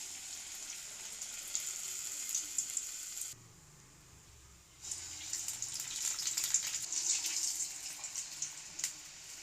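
Chilli vadas (garelu) deep-frying in hot oil make a steady close hiss and bubbling crackle. It pauses briefly and then returns louder, with no talk.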